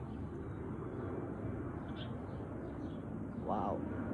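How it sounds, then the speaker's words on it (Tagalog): An airplane passes overhead outdoors, a steady distant broadband engine drone that lingers throughout, with faint bird chirps above it. "Andyan na naman, aeroplano po."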